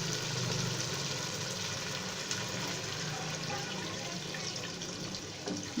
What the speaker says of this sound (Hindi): 1/2 लीटर के करीब हम इसके अंदर पानी डाल देंगे।